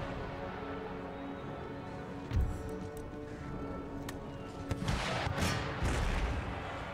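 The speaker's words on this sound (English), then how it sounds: "Suppose the howitzers could already both bombard the Hessian foot units." Howitzer bombardment pounding Hessian foot units in Empire Total War, a few dull booms and cracks scattered over a steady battlefield din, with a denser burst of fire toward the end.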